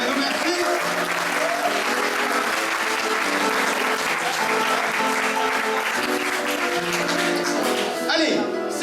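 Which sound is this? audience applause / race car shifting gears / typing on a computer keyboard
audience applause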